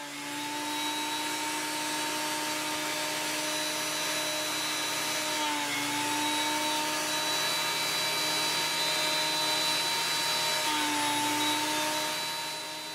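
A Ridgid benchtop planer fitted with new blades feeds a rough, lopsided walnut board, giving a steady, loud motor whine and cutting roar that holds level throughout with no pauses.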